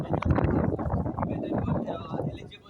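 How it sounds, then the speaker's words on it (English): Rough, low buffeting wind rumbles against the microphone throughout, loud and close, with a voice speaking underneath. "It's very windy."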